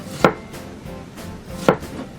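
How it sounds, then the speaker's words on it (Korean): A knife slices through a watermelon, carving it into a heart shape: two sharp, crisp chopping thuds about a second and a half apart, close up, with quiet background between them. "위를 약간 이렇게 쳐내면서 하트 모양 위로 둥글게 썰어주시면 된답니다"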